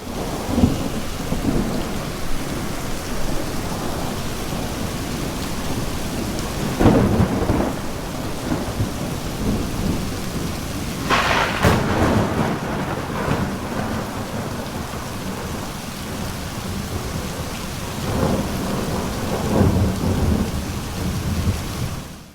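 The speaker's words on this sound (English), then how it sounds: "with rain and lightning sound effects playing, but without any rain at all" Steady heavy rain pours throughout while rolls of thunder rumble in, with the loudest crashes around the middle and a fainter roll near the end.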